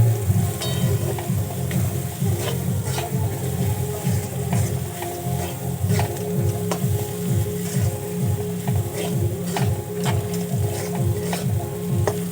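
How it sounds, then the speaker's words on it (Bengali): Ground spices with chilli powder, chaat masala and garam masala sizzle steadily in a pan for a Bengali cabbage roll filling, with a rhythmic, repeated scraping of a stirring spoon running throughout, loud and close, with no talking. "আরও কিছুক্ষণ ভাজা ভাজা করে নিয়েছি।"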